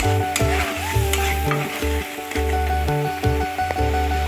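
Spice paste with sugar and salt being sautéed and stirred for a mustard-poppy bata fish curry: a steady, loud sizzle with rhythmic scraping strokes of a spoon against the pan, heard alone.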